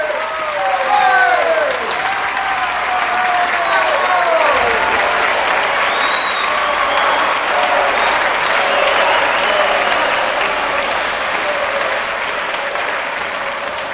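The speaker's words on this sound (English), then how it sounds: "the audience was jolted back into reality by the sound of a lone, sustained clap, followed by a few sparsely isolated claps, which quickly turned into cheers" A Berlin concert audience breaks into sustained applause and cheers, a dense, loud wash of clapping that holds steady throughout, with a voice talking over it.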